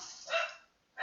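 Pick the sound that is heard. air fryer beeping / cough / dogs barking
dogs barking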